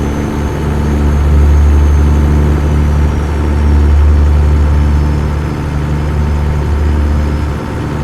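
A loud engine runs steadily in a truck in the Convoy driving game, a deep, constant idling rumble with a slight swell in level partway through and no talk over it.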